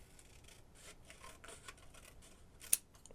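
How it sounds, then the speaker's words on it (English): Quiet, close rustling and snipping of book pages cut with scissors, with a sharper click near the end. "and I'm going to cut it with my scissors."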